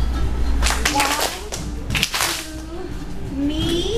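Hand claps in a dance routine being taught, several sharp claps in rhythm under a person counting and talking, with light taps and room noise around them.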